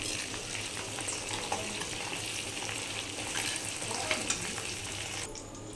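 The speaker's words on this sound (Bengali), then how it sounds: "গ্যাস একদম কম আঁচে রেখে প্রায় 10 মিনিট ধরে ভালো করে নাড়াচাড়া করতে হবে" Fresh hibiscus flowers stirred in oil in a pan over very low gas flame for hair oil, a soft continuous sizzle with light scraping of the spoon, quiet and steady.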